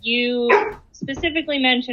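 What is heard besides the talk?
dog barking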